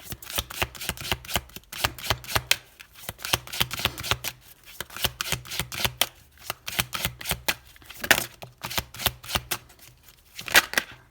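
Oracle cards shuffled by hand for a card reading, a long run of quick riffling flutters in bursts with brief pauses between, close and clear with no voices.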